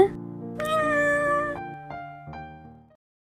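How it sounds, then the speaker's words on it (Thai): An orange cat in The Sims gives one long, close, drawn-out meow that trails into a couple of shorter, softer mews before falling silent. "อุ้ยแมวที่ไหนเนี่ย น่ารักจัง แมวส้มด้วย"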